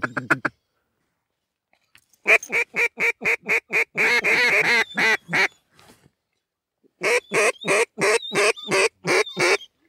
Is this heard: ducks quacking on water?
yes